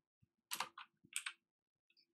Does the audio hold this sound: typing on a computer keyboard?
yes